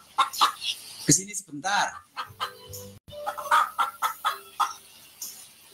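Chickens cluck and squawk close by, ailing backyard fowl in a flock, with repeated short calls throughout while a person talks over them.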